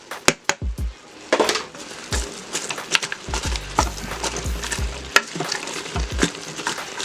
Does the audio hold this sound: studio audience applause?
no